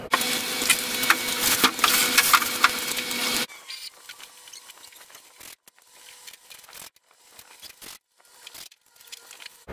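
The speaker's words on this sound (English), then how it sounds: "we're gonna load up the plywood onto the machine and cut it" A CNC machine cuts plywood, first with a loud, dense whining roar for several seconds, then a quieter stretch of intermittent cutting and scraping noises.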